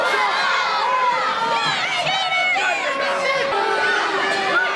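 A wrestling crowd at a Sebring, Florida show reacts with loud jeering, shouting and whistling at the Syrian Slasher, overlapping voices and high yells filling the room continuously.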